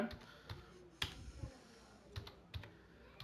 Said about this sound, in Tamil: ஸோ அதனால் sudo ifconfig அப்படின்றத வந்து பார்த்தீங்கன்னா டைப் பண்ணிக்கோங்க